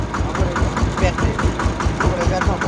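A road roller's engine runs close by with a loud, rhythmic diesel thumping, even knocking pulses repeating several times a second at a steady idle, with voices partly audible over it.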